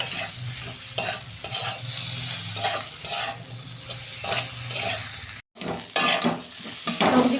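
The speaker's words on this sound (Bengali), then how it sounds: "সবজিগুলো আমার ভাজা হয়ে গেছে," Mixed vegetables fry with cumin and chilli powder in a pan: a loud, close sizzle with repeated rhythmic stirring scrapes. There is a brief gap of silence partway through, then more stirring.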